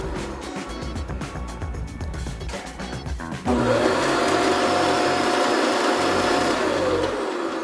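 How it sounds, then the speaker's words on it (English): A robot vacuum base station empties dust into its bag: a softer whirring first, then an abrupt switch to a loud, steady motor roar with a sustained whine, close and without talk. "now it's just going and cleaning itself and emptying it into the dust bag"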